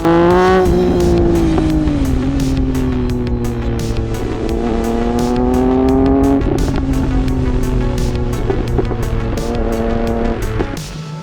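Triumph motorcycle engine running steadily and loud, a close, rich drone whose pitch rises and falls gently over about eleven seconds with no talking.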